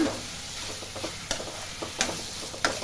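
Cleaned dried anchovies sauté in oil with a low, continuous sizzle, punctuated by three or four sharp spatula clacks against the pan.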